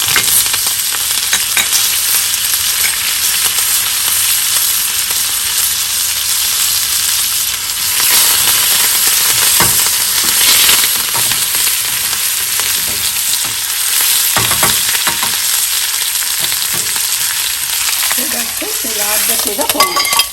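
Grated ginger and curry leaves frying in a pan for ven pongal, a loud, steady close sizzle with scraping stirs throughout and no talking.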